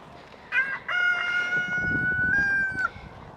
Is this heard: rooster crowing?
yes